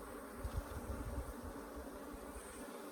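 Africanized hybrid honey bees in Southern Arizona buzz steadily around an opened hive during an inspection, a dense, continuous drone with a few closer passes early on.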